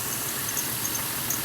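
A Nissan Xterra engine idles steadily while it warms up, giving a low, even rumble up close with no talking.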